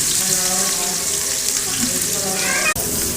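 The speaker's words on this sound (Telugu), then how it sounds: "ఆనియన్స్ వేస్తున్నారు." Onions frying in a large pan for a 5 kg chicken gravy curry give a steady, broad sizzle and hiss throughout, with a few faint clinks and a brief dropout near the end.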